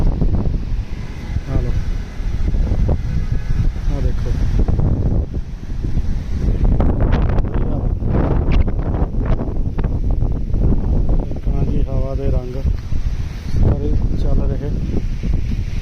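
Strong wind gusts roar across open farm fields ahead of rain, buffeting the microphone in a loud, continuous rush, with someone talking over it.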